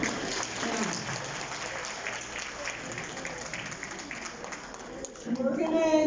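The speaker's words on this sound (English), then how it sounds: "Round of applause." A crowd at a Robbie Burns lunch gives a round of applause, a wash of clapping that holds steady and thins slightly before voices and louder noise rise near the end.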